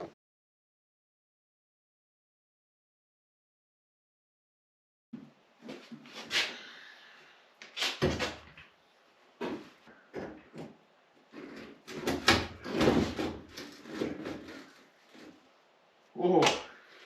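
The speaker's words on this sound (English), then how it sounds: "All right, let's grab the door." A wooden door is lifted and moved during a budget building project, giving a string of close knocks, scrapes and thumps after five seconds of silence, with brief talk in between.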